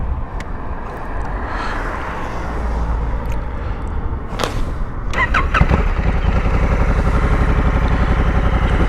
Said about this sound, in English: Nice note coming from the exhaust. I'll just crack that up and we can have a listen.